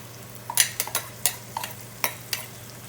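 Minced lamb frying in a pan with garlic and ginger for a keema curry, heard as a run of sharp, close sizzling bursts and scraping stirs at an uneven rhythm, with no talking.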